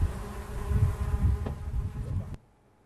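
Bees buzz steadily among cherry trees in an orchard, a soft continuous drone for a couple of seconds before cutting off abruptly.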